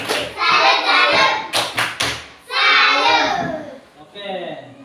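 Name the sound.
class doing the 'tepuk salut' rhythmic clapping chant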